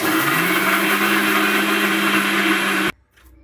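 Electric mixer grinder whirring at high speed as it grinds dried red chillies, cumin and garlic for a gongura chutney, a loud steady motor drone that stops abruptly near the end.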